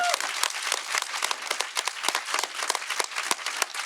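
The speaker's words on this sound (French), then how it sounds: "s'il vous plaît, un tonnerre d'applaudissements" Applause from an audience at a campaign-launch talk, honouring the campaign's team of professionals: dense, sustained clapping that fills the space at steady loudness throughout, with a brief tone at the very start.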